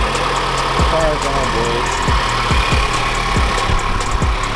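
A Mazda 3i bought at a Copart auction idles steadily at close range, a continuous low engine rumble with faint rhythmic ticking running through it.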